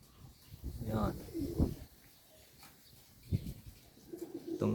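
Racing pigeons coo softly at a loft in short, low, throaty bursts, with faint wing flutters and a person speaking nearby over quiet background noise.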